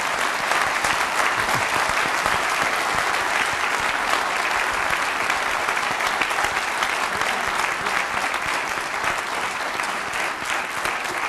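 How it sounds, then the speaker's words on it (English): Steady, dense applause from a conference audience fills the whole stretch, loud and sustained with no break, marking the close of the first two acts of an event on combating neglected tropical diseases. "you can have a round of applause now for Act 1 and 2"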